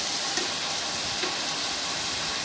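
Shrimp curry with potato and vegetable stalks sizzling in a pot, giving off a loud, steady hiss of frying oil with faint stirring sounds.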